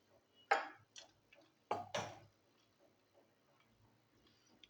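Mustard seeds splutter in hot oil in a pan. A handful of sharp, isolated pops, with two strong bursts close together, stand out against an otherwise quiet background.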